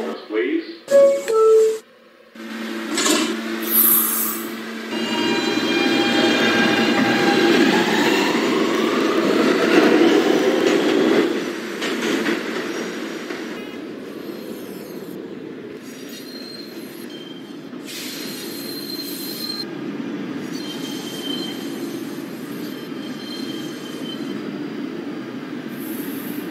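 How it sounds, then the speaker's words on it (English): A New York subway R local train at Whitehall St station, heard loud and close for a long stretch as it rolls and screeches through, with squealing wheels and a rumbling, clattering run; a recorded announcement voice plays over it. "This is a Brooklyn-bound R local train."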